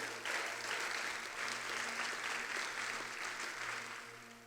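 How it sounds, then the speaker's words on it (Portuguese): A church congregation at a conference claps loudly and steadily, a dense burst of applause from the audience that swells and then tapers off near the end. "Pode aplaudir bem forte a esse Deus"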